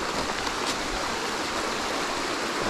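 Flowing water of a wilderness trout creek heard from the bank, a close, loud, continuous babbling rush with a few brighter splashy flickers and no voices.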